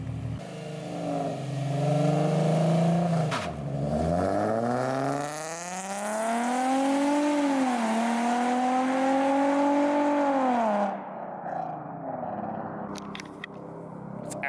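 A 2003 Nissan 350Z launching from outside the car, loud revving that dips and then climbs steadily through the gears, then cuts off into quieter idle sounds with a few sharp clicks at the end.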